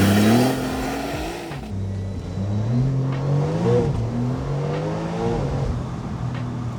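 Porsche 911 launching hard with launch control, engine note climbing through rising pitch sweeps as it pulls away, loud and close with a dense roar continuing under each upshift.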